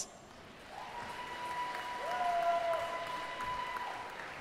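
Applause from the crowd at a cosplay contest on a convention main stage, a soft diffuse patter of clapping that swells and holds, with a sustained tone sounding over it.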